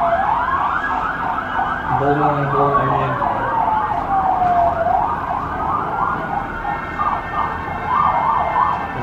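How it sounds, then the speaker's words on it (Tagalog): Loud wailing ambulance and fire truck sirens sweep up and down continuously at close range in Abu Dhabi, with a brief spoken remark partway through. "May ambulansya, may fire truck."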